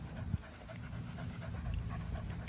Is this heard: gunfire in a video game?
no